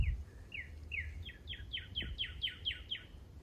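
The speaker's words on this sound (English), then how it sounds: "Listen to the birds." Birds chirp in a quick series of bright, repeated calls, fairly close, over a soft outdoor background hum in Withlacoochee State Forest.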